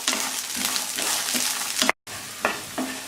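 Green peas fry in a hot pan with a loud, steady sizzle and repeated stirring scrapes, interrupted by a brief moment of silence before the frying resumes.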